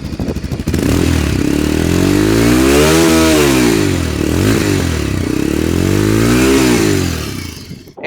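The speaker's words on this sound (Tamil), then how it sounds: "எக்ஸாஸ்ட் நோட் எப்படி இருக்குன்னு நீங்களே கமெண்ட்ஸை சொல்லுங்கள்." A 200cc city sports motorcycle's exhaust is revved up and down repeatedly up close, a loud rasping note rising and falling in several sweeping waves before settling toward idle.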